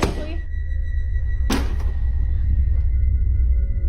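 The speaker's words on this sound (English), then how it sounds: "something is banging on the door until it stops when Sammy opens it" A single heavy bang against a door lands sharply, then a short hollow echo fades into a low steady hum; a softer knock follows a moment later.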